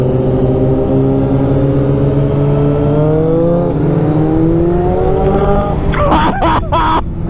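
Several motorcycles ride close together on the Nürburgring, a loud, dense engine roar with sliding pitch as riders rev and shift, ending in choppy bursts, while voices talk underneath.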